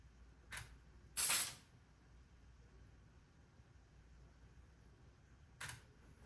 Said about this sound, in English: now we're going to release the shutter and I'm going to wait for it to go off.